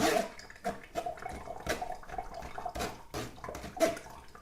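Turmeric and ginger juice drains through a strainer in small wet splashes and trickles, soft and close, with irregular gurgling bursts throughout.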